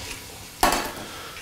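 Apples tipped into melted butter in a pot, a sudden loud clatter and splash of pieces landing followed by a short fading sizzle over quiet kitchen background.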